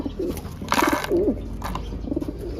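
Racing pigeons coo softly nearby in short repeated calls, with a brief flutter of wings and a steady background hum.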